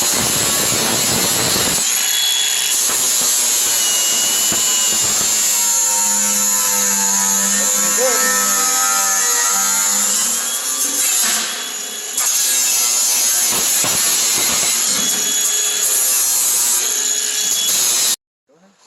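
An angle grinder works on welded-together Chevy and Ford truck beds, a loud, harsh, continuous metal-on-metal whine that holds steady with slight shifts in pitch and cuts off abruptly near the end.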